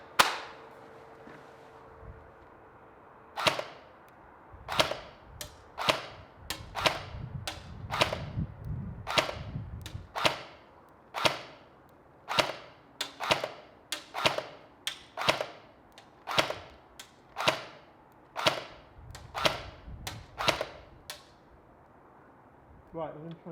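A Cybergun FN P90 airsoft gun fires about twenty sharp, snappy single shots, spaced a second or so apart in an uneven rhythm, each one clear and close.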